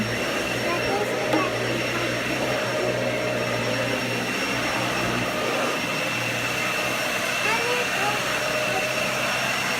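A Dyson vacuum cleaner runs continuously nearby with a steady high-pitched motor whine and airflow roar, holding an even level throughout.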